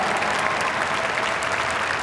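An audience at a dog show claps steadily and loudly during the hound group judging, a dense, continuous wash of hand claps filling the arena without a break.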